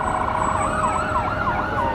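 An old fire truck's loud siren wails continuously in a parade, its pitch sweeping up and down in a rapid repeating cycle, close by over a low vehicle rumble.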